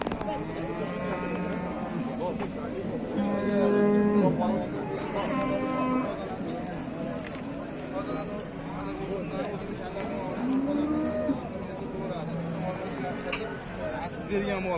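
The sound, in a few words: cows lowing at a cattle market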